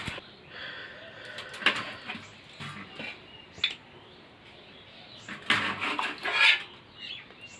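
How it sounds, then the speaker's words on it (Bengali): Pitha being lifted from a pot onto a plate, with a few clinks and scrapes of metal utensils against cookware, close, separated by quiet gaps. "এটা প্লেটে তুলছি"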